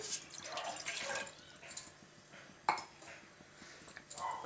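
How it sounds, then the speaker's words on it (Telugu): A glass of water poured into a pot on a lit stove while making spiced masala tea, heard as splashing and trickling bursts with a few sharper drips, close and moderately loud. "స్టవ్ వెలిగించుకొని గిన్నె పెట్టుకొని వాటర్ పోసుకోవాలి గ్లాస్ వాటర్"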